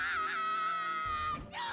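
A character in an anime emotional scene lets out a long, loud, wavering scream that holds and then breaks into a choked cry near the end.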